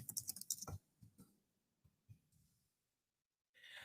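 A computer keyboard is typed on in a quick burst of close clicks, then a few sparse keystrokes, with a brief rustle at the end.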